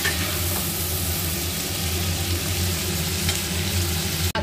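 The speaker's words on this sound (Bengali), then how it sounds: "এটাও আমি হালকা একটু ব্রাউন করে আমি এটা ভেজে নেব।" Continuous sizzling of food frying in a pan in a Bengali home kitchen as pieces are lightly browned, with a steady dense crackle and a faint stir or clink near the end, no talk.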